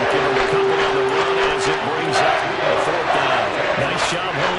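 A football stadium crowd roars steadily on a fourth-down play, with a constant wash of cheering that sits under a commentator's voice.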